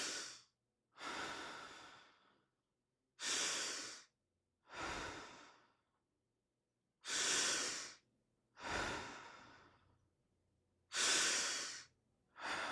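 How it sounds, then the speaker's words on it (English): Seven forceful mouth breaths drawn into the upper chest, each a loud, close, airy rush lasting about a second, spaced by short silences in a steady paced rhythm, with no talking over them. "We're going to do 5 regular charge breaths through your mouth into your upper chest."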